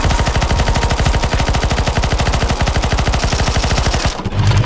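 Sustained rapid automatic gunfire from players shooting at a boss on a CS:GO zombie escape map, loud and continuous for several seconds before cutting off abruptly.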